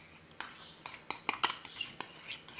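Spaghetti carbonara is stirred quickly in a frying pan with an egg and cheese cream, bringing light, rapid metallic clinks and scrapes of a utensil against the pan in irregular bursts, close and fairly quiet.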